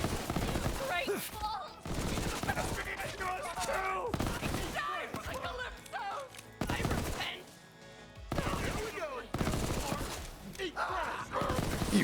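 Rapid bursts of gunfire at enemy guards in the looter-shooter game Borderlands 3, loud and repeated in choppy clusters across the whole stretch, mixed with game effects and voices.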